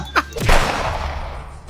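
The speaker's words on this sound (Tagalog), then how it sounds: "Di ba bawal ang paputok?" A firecracker bursts with a sharp, loud bang followed by a short echoing decay, preceded by a quick faint pop.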